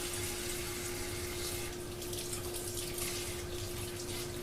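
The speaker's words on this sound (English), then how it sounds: "So you run lukewarm water, kind of like what you do for a baby bottle." Lukewarm water runs from a tap in a steady, close stream, a continuous splashing rush with a faint underlying hum and no talking.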